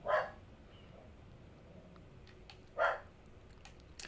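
Two short dog barks from the PS1 horror game Clock Tower, spaced a few seconds apart at moderate distance, over a quiet ambient background.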